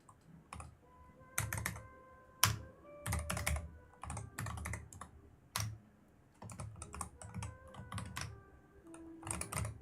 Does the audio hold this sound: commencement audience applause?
no